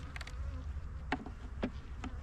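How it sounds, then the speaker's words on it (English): Honeybees buzzing around an open hive during a spring inspection, several brief close passes standing out over a faint steady hum, with no talk. "The bees are active."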